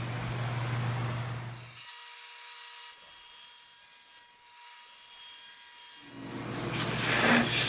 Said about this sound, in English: All right, I'm going to cut the other shelf to length now.